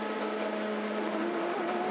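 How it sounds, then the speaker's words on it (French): A BR Engineering number 11 race car at the 24 Hours of Le Mans 2019 roars past the pits with a steady, droning engine note of middling loudness throughout. "passage devant les stands de la BR Engineering numéro 11, piloté par Vitali Petrov"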